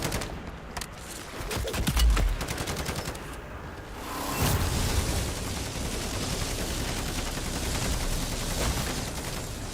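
Automatic sentry gun fire aimed at a zombie disciple in MW3 Zombies: dense, sustained bursts of gunfire with booming impacts, loud and continuous through the whole stretch with no talking.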